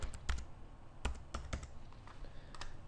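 Keystrokes on a computer keyboard as a zip code is entered, a handful of distinct taps in an uneven burst with short pauses, close and clear in a quiet room.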